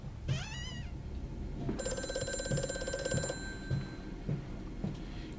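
A telephone rings in the horror video game Amnesia: A Machine for Pigs, with one sustained, bright electronic trill after a short wavering tone, over a low background hum.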